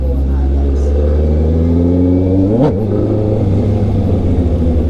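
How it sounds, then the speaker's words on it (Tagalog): A Honda CB650R motorcycle with a straight-pipe exhaust idles with a loud, deep, steady rumble close by. Midway it gives one quick rev that climbs and falls before settling back to idle. "Ito yung exhaust yung sinasabi ko. Straight pipe lang to, no?"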